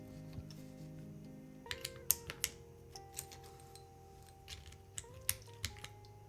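A newly built Karina mechanical keyboard with a fresh keycap set gives sparse, crisp clicks, about a dozen irregular keystrokes, close and fairly quiet over a soft tonal background.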